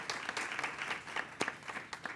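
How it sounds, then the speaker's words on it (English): Audience applause greeting a panel arriving on stage at a community coalition network meeting, steady moderate clapping from a small crowd with a few sharper individual claps throughout. "Let's give them a round of applause as they join us."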